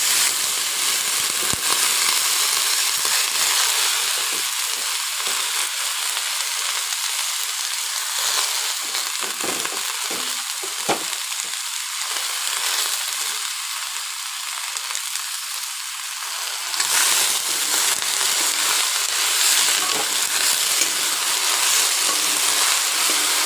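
Pieces of taro fry in a hot pan, giving off a loud, dense sizzle that continues steadily without pause and with no talking.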